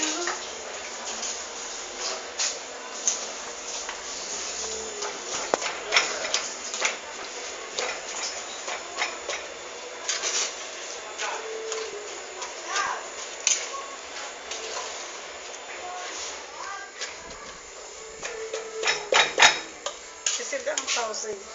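Cocada is stirred in a pot over a fire, with a spoon knocking and scraping the pot in continual irregular clinks and scrapes, plus a few louder clanks near the end.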